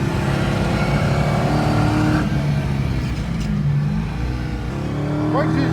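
A car on a race circuit roars at high volume through the whole stretch, engine droning and shifting pitch under hard braking and revving, with a rising whine near the end.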